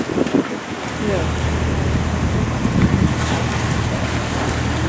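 Ocean swell crashes against rocks as heard from aboard a sailboat in stormy weather, a continuous loud rushing roar with heavy wind buffeting the microphone.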